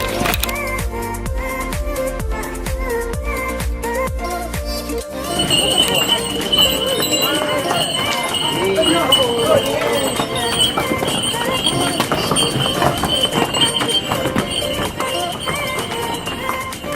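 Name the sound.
donkey hooves clip-clopping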